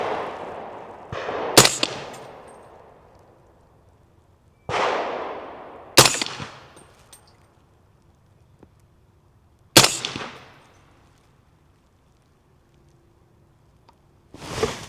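Four subsonic 8.6 Blackout rifle shots ring out one at a time at uneven intervals, each a sharp, loud crack with a decaying outdoor echo, followed by quiet gaps.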